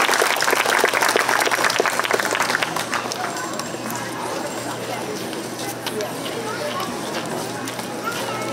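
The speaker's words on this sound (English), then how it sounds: "let's give our contestants a big round of applause again" A county fair talent show crowd applauds the contestants, dense clapping that starts strong then settles into steadier, softer applause, with talk over it early on.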